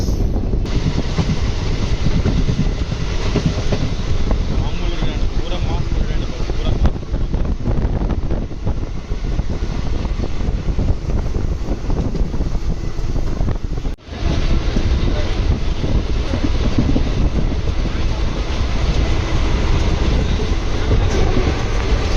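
A push-pull locomotive train on an intercity express run from Vijayawada, heard as a loud continuous rumble and clatter of rolling wagons mixed with heavy wind buffeting, with a brief dip partway.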